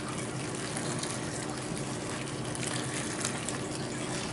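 Boiling water rushes continuously into a bowl of dried corn husks, a full, steady gush with no pauses.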